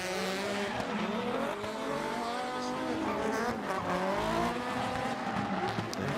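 A drift car on a run at Ebisu Circuit West Course, engine wailing and revving continuously with squealing tires, loud and sustained, and a commentator talking over it.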